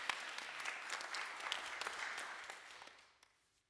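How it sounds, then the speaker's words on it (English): A small audience at a Sunday forum gives soft, dense applause that holds steady, then thins and fades out near the end, distant and fairly quiet. "So applause to all of you guys too."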